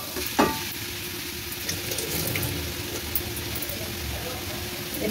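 A prawn and radish curry being stirred in a pan gives a low sizzle with scraping and clinking, a brief sharp knock near the start, and quiet speech beneath.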